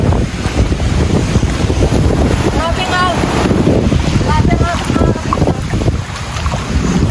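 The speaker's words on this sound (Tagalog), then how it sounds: "Yan ang agos po ng dagat." Rushing sea current and waves roar near a boat out on open water, with heavy wind buffeting the microphone. A few faint voices come through beneath the steady noise.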